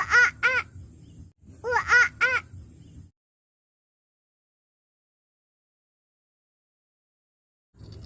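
Voice imitating a monkey: two quick bursts of high, chattering ooh-ah calls, each a cluster of short yelps, followed by silence.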